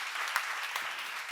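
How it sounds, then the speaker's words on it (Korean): A church congregation claps together in a brief, dense burst of applause during a sermon, with a louder spike at the very end. "박수해."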